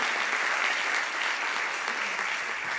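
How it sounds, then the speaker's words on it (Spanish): Brief, lively applause from a comedy show audience welcoming a guest, a continuous burst of many hands clapping at fairly even loudness throughout. "un aplauso"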